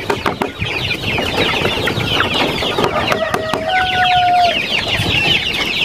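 A crowded flock of hungry chicks and chickens peeps and clucks continuously and loudly up close, with a few longer, clearer calls rising over the steady chatter.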